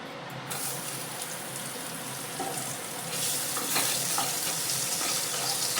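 Chopped onions hit hot mustard oil in a wok, a steady broadband sizzle that swells louder after a few seconds and keeps hissing, with no talk over it.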